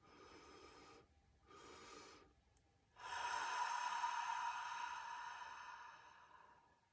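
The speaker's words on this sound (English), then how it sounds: "the first inhale is longer and larger, and then the second inhale is a little bit shorter and quicker" Two quick nasal inhales, the first longer and the second shorter, are followed by a long, loud sighing exhale, close and clear during a breathing exercise.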